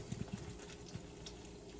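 A can of beer pours into a steak marinade, a faint, steady liquid trickle with a few soft low thumps near the start.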